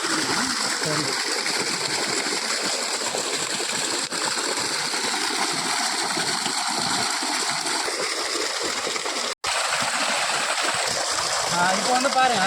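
Jeevamirtham, a liquid farm fertilizer, gushing out through a pipe into a field, a continuous loud splashing stream with a person talking over it.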